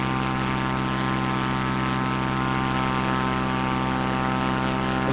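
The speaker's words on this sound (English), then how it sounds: "We're flying a Cessna C400." Steady, continuous drone of a Cessna C400 propeller aircraft engine cruising in flight in a flight simulator game, a dense harmonic hum at constant loud level with no talk.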